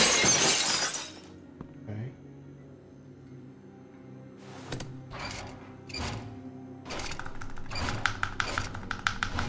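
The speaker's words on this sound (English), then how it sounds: "Then I heard the glass breaking." Glass shatters loudly at the start in The Walking Dead video game, a bright burst of breaking that fades into quieter game ambience with scattered taps and thuds.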